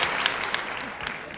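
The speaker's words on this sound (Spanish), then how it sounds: "un aplauso entonces" An audience applauds at a local author's book presentation: a dense, steady patter of many hands clapping close by, holding an even level throughout, with a voice faintly present underneath.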